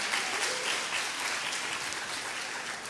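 An audience applauds steadily in a broadband wash of claps for a woman at a church gathering, moderately loud, with no voices over it.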